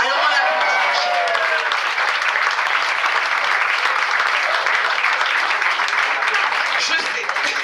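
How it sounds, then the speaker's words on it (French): A concert audience applauds a man named Michel with sustained, dense clapping that stays loud and steady throughout, with a few voices mixed into the crowd noise. "Alors on l'applaudit, Michel."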